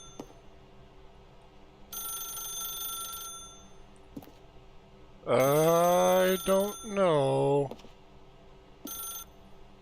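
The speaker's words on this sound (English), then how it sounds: "Pick up the phone and it will take us back home" Telephone ringing in The Stanley Parable video game, heard as short bursts of bright electronic ringing that start and stop. A person talks over part of it.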